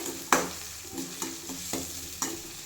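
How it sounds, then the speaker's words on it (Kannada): Two onions frying in a pan: a soft steady sizzle with several distinct spatula scrapes and knocks at an uneven pace, close and alone with no voices. "ಎರಡು ಈರುಳ್ಳಿನ ಹಾಕ್ಕೊಂಡಿದ್ದೀನಿ ಇವಾಗ ಇದನ್ನು ನೀಟಾಗಿ ಚೆನ್ನಾಗಿ ಫ್ರೈ ಮಾಡ್ಕೋಬೇಕು"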